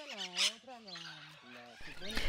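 Rescued parrots at a sanctuary squawk loudly in close, harsh bursts with strained, harmonic-rich calls, including one bright shriek and a scratchy cluster near the end.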